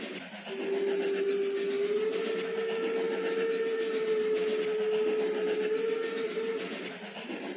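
A train whistle sounds one long, steady, loud blast lasting about six seconds, heard alone.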